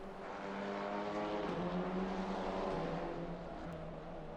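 A GT4 race car in Assetto Corsa Competizione drives the final corners at the Hungaroring, its engine droning steadily and swelling slightly as it passes close by.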